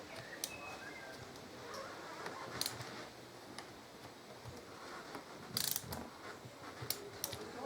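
A torque wrench tightens the bolts on a rebuilt Performance Machine four-piston motorcycle brake caliper, making a faint, rapid, ticking ratchet clicking with a few sharper metallic clacks, close by and quiet.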